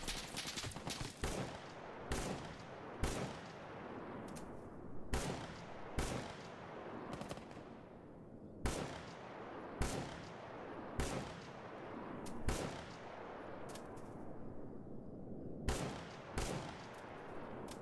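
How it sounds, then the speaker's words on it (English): Sharp video-game gunshots crack repeatedly at irregular intervals, some in quick pairs, with echoing tails that suggest distance, alone without talk. "I hear gunshots coming from the Jupiter Zaton transition zone"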